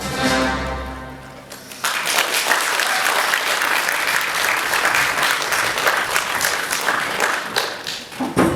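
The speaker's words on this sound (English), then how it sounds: "Let's get a big round of applause for that opener." Audience applause at a community theatre cabaret erupts after an opening musical number, dense sustained clapping from a full room that starts abruptly as the song's final note ends and carries on steadily.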